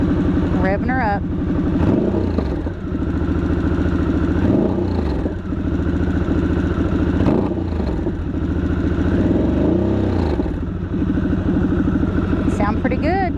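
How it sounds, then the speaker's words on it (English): A motorcycle engine is revved repeatedly in short rising bursts over a steady idle, close and fairly loud, with a voice talking over it at times. "Revving her up."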